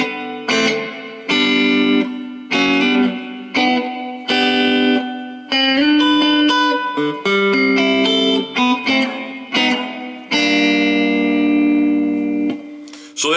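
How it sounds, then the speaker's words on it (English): A Roland Micro Cube guitar amp with its reverb turned a little past halfway: electric guitar notes and chords ring out loud and close, each trailing a lingering wash of decay with no talking. "So there's the reverb."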